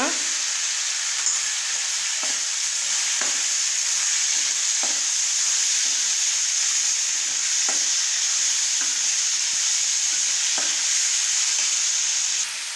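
Tomatoes and onions sauté for onion chutney in a pan, giving a loud, constant hiss and sizzle broken by regular clicks of a spoon stirring, with no one speaking.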